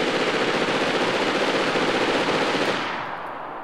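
An AEK assault rifle in DayZ Rearmed fires one long, rapid full-auto burst, loud and close with an even rattling rhythm, then cuts off into a short fading echo.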